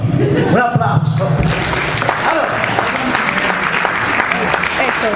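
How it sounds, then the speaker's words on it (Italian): Crowd applause at a local athletics club's celebration party, starting under a voice for the first second or so, then settling into steady, loud clapping. "Un applauso"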